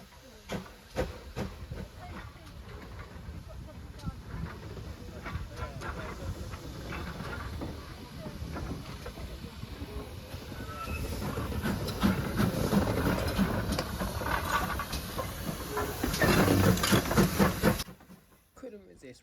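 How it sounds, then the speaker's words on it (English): Steam locomotive 5526 on the South Devon Railway running around its train, a continuous hiss and rumble that builds louder toward the end before cutting off, with voices talking over parts of it. "Couldn't resist one last moment just to see 5526 run around again"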